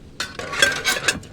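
Metal pan set down on a camping cooker inside a tent: a few quick clinks and clatters in close succession, close and fairly loud, with no talk.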